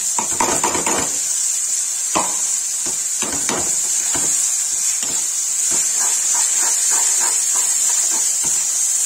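Tomatoes hitting a hot pan of spiced bhindi and potato curry, a bright steady hiss and sizzle with scattered clanks of a spoon against the pan, close and fairly loud, without talk.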